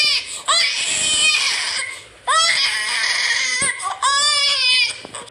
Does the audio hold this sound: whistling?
no